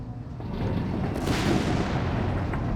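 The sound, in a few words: artillery fire in a World War II strategy video game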